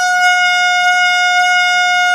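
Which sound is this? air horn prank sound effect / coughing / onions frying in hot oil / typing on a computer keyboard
air horn prank sound effect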